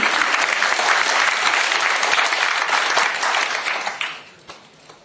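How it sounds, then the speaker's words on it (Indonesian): A crowd at a seminar on online business gives a loud, sustained round of applause that thins out and fades near the end, leaving a few scattered claps. "beri tepuk tangan untuk Habibi"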